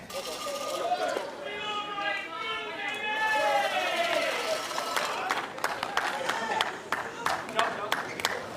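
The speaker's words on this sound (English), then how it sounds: "See that cheering section trying to keep DC mentally in this game." A crowd at a professional pickleball match cheers and chatters in a swelling roar, with sharp paddle pops and scattered claps cutting through as a commentator talks over it.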